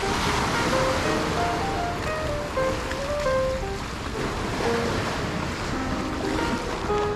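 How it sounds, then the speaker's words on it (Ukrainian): Calm ocean surf washing onto a Honolulu beach at dawn, a steady broadband wash with light wind noise and faint tonal chirps scattered throughout, continuous and moderately near with no talk. "Океан спокійний."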